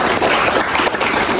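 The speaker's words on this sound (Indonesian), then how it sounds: "tepuk tangan dulu." A gathered crowd honoring a regional student sports team from Flores Timur for its medal haul claps in a short, loud, dense burst of applause, brief and close with no talk over it.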